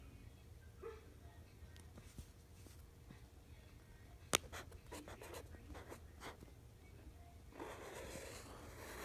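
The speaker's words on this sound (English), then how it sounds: "Write your answer down." Pencil writing on paper during a maths lesson, faint scratchy strokes in short irregular bursts with a few soft taps, fairly quiet and close.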